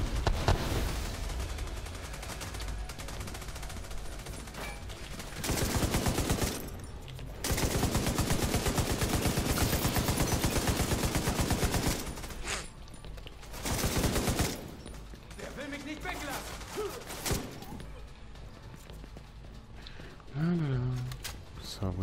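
Bursts of heavy automatic gunfire and explosions from the video game The Division 2 in repeated volleys, loud and dense, with brief quieter gaps and some talking in between.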